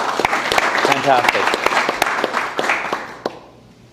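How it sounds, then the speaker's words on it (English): A round of applause at the 64th annual Men of Essex awards ceremony: dense, close clapping from the audience fills the room, with a brief spoken word, then dies away near the end. "but a round of applause for them."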